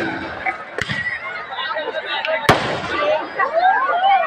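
Two sharp bangs of fireworks burst out, one near the start and a louder one midway, over a steady crowd murmur with people chattering throughout, at a high school's 50th anniversary celebration.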